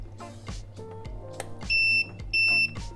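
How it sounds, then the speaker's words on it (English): A Reefloat ATU/ATO top-off controller gives two loud, steady high-pitched electronic beeps about half a second apart after its button is held, over a low room hum. "And it beeps, and so 2 beeps means that it will come on for 10 seconds."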